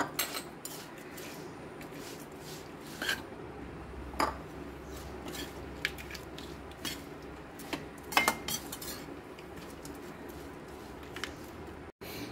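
A spoon stirs fried chopped nutmeg into a pickle mixture, giving scattered light metallic clinks and scrapes against a vessel over a low, steady background, close and fairly quiet.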